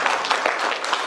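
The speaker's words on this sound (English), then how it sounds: "Can we clap for him?" Clapping from an audience at a talk: a brief, even burst of many hands clapping together at moderate loudness.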